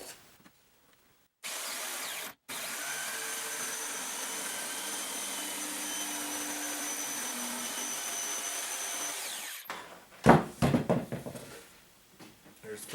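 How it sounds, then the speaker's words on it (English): Jigsaw cutting a wood base for a grinder slider build, a steady buzzing saw drone running for several seconds after a short start, then stopping before clattering handling noises of the cut pieces. "So I'm going to go ahead and cut this out using the jigsaw."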